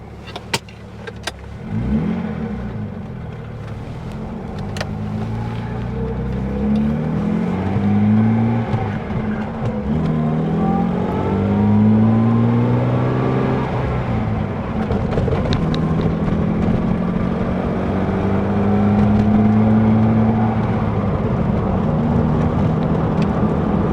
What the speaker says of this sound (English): there is us up into 4th gear at 40 miles per hour